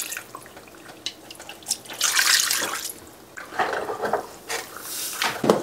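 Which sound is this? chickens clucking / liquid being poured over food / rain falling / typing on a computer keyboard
liquid being poured over food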